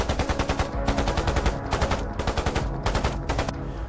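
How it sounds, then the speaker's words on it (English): Rapid automatic gunfire rips out in several long bursts with brief gaps between, loud and close, each burst a fast chatter of shots in a war zone in Ukraine. "A burst of gunfire tore through the silence."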